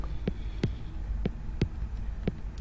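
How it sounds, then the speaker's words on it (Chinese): A steady, muffled heartbeat thumps in a quick, regular rhythm over a low droning hum, with no voices. "心跳跳得好快。"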